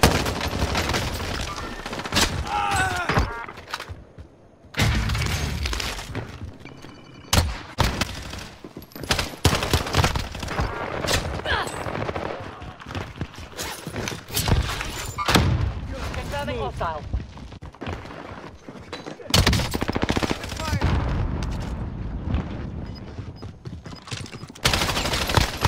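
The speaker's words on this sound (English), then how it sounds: "hostile fire" Gunfire erupts in Call of Duty: Warzone on Rebirth Island, with bursts of automatic rifle fire and single shots in close, loud volleys, and voices talking between and over the shooting.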